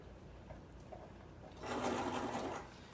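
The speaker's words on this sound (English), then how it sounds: "This is the reverse button on your sewing machine, so it makes your wefts go backwards." A sewing machine stitches wig wefts onto a cap: a quiet hum runs through, then a louder, rapid motor whir bursts for about a second near the end before easing off.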